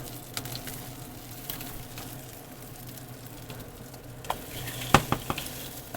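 Burger patties sizzle in a hot pan as they are flipped, a soft steady fry broken by a few sharp spatula scrapes and clinks toward the end; no one speaks.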